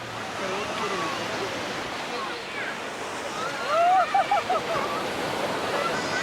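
Sea waves at Kalapathar beach on Swaraj Island, Andaman, make a broad steady wash of surf that fills the scene, with a brief burst of faint voices partway through.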